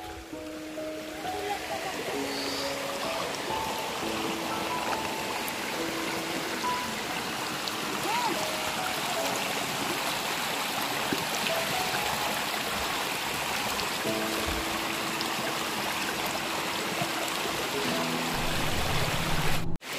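Steady rain falls outdoors, a dense continuous hiss and patter that swells slightly louder toward the end, with faint background tones underneath.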